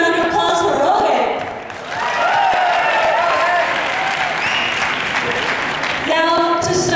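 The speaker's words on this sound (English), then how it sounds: "Let's have a huge round of applause for Rohit." Loud, dense applause from a large crowd at a Boston Bhangra event, dipping briefly before swelling again, with voices and cheers mixed in.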